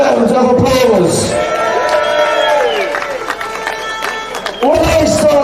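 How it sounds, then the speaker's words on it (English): A crowd at a street demonstration and counter protest in Birmingham cheers and claps, loud and close, with shouting and chatter woven through it. A speaker's amplified voice rises over the crowd at the start and again near the end. "Give yourselves a massive round of applause."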